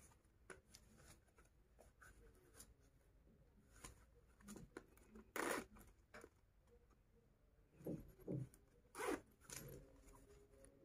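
Zipper on a crocheted wallet being pulled in several short, quiet zips with soft handling taps between them, close up and without talk.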